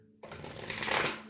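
A deck of playing cards is riffled and shuffled in one quick, crisp burst of fluttering snaps, close up.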